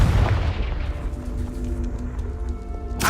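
Confringo spell blast in Hogwarts Legacy, a heavy booming impact that decays into a lingering rumble and ringing tones, followed by another sharp hit at the end.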